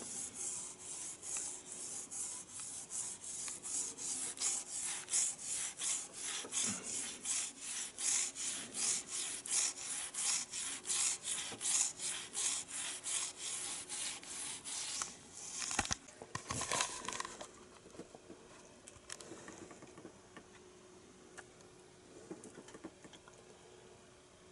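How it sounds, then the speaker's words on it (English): Fine steel wool scrubbed over metal on a Triumph chopper sidecar build, rapid rhythmic back-and-forth rasping strokes up close, then slowing to a few scattered rubs before going quiet. "Fine steel wool. Just"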